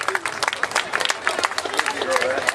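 Crowd applause and cheering at an outdoor giant pumpkin weigh-off on a New Hampshire town common for winner Peter Crisp: dense, steady clapping from many hands, with an amplified announcer's voice over it.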